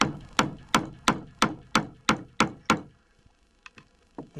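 Hammer drives nails into a wooden board while a nest box is built: eight sharp, evenly spaced blows ring out close by, then a few lighter taps follow after a short pause.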